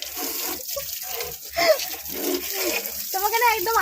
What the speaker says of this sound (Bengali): সে কেমন করে জলটা ছাড়লো